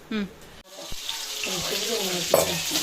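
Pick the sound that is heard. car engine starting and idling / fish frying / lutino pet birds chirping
fish frying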